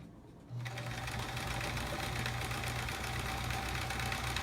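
A domestic sewing machine starts up and runs steadily while quilting blocks quilt-as-you-go, a close, even mechanical whirr with rapid needle chatter and a low motor hum throughout.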